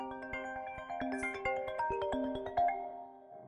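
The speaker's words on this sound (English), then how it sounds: "Getting a phone call." A phone rings for an incoming call with a melodic ringtone of plucked, bell-like notes in a quick repeating pattern, fairly quiet and alone.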